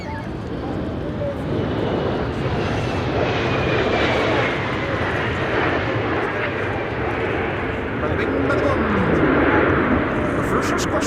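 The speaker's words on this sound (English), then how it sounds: "United, here it is, arriving from Houston." A United airliner inbound from Houston arriving at windy Amsterdam Schiphol, its engine roar steady and fairly loud throughout, with broad wind noise and a voice talking over it.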